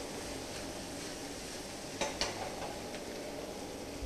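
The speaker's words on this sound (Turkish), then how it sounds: "Mantarını katacağız, o da ısınıyor tabii ki." Mushrooms sizzle quietly in a heated cast iron pot while fajitas are being cooked, a soft steady frying hiss with a couple of brief utensil clinks in the middle.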